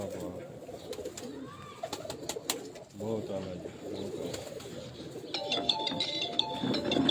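Golden pigeons cooing softly nearby in low repeated murmurs while someone talks over them, with some chirpy bird calls rising toward the end.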